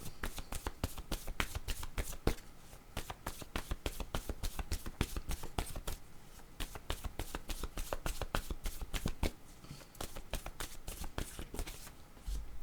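Tarot word cards being shuffled and drawn, a fast run of crisp riffling snaps and taps repeating closely and steadily throughout, near and fairly quiet, with no talk.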